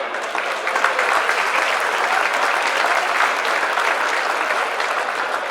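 A crowd at a shooting guild festival reception bursts into steady, dense applause, many hands clapping at once for several seconds without letting up.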